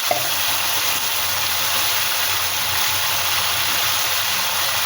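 Ginger masala for a brinjal curry sizzles steadily in a pan after water is poured in, a loud continuous hiss that holds level throughout with no talking.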